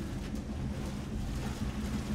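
A truck splashes into water in the off-road driving game Spintires, a steady, loud wash of churning water and rumble that fills the whole moment without any break.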